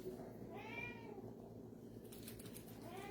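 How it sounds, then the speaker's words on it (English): A cat gives a couple of soft, faint meows in a quiet kitchen, with light tapping sounds following. "What are you doing to the cat? He's scared."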